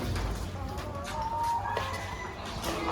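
A desi (country) chicken clucks in short, repeated calls around a food stall in Bhubaneswar, with steady background noise and no talking.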